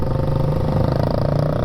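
A BSA A10 650 twin motorcycle engine running after a kickstart, a steady loud throbbing idle close by with no other sounds.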